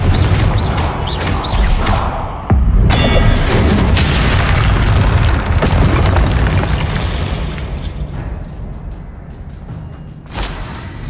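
A loud, sustained booming explosion from the Confringo blast spell in a Hogwarts video game, with a sharp burst near the start rolling into a long, dense rumble that slowly fades, followed by a small pop near the end.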